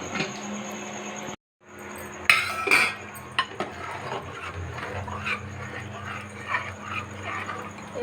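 A lid is set down on a pot of khichuri cooking on a stove, giving a close metallic clank and a short rattle, then quiet kitchen clinks and a low burner hum.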